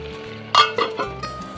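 Boneless chicken cooks in a pan for a tamarind-leaf chicken dish, a soft steady sizzle broken by a few sharp clinks and stirring knocks of a utensil against the pan, fairly quiet and close.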